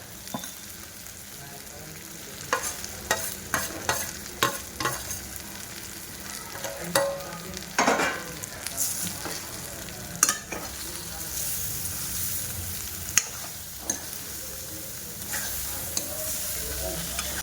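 Masala is stirred into stuffed brinjal cooking in a pan, giving a constant close sizzle broken by repeated sharp scrapes and taps of a spoon against the pan, at an uneven rhythm.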